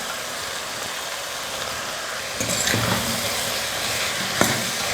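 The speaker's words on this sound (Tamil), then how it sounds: "ஒரு 2 நிமிஷம் எண்ணெயில் வந்து நல்லா வதங்கட்டும்." Potato and soaked chana dal sautéing in hot oil for a mushroom kootu, a steady close sizzle with a brief louder stir and scrape partway through, no talking.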